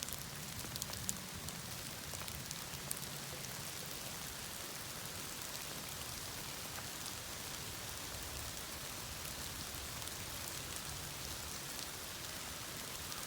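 Steady rain falling in a forest at Julington Durrance Creek Preserve, a dense even hiss of drops on leaves and ground that stays continuous and soft throughout, with no voices.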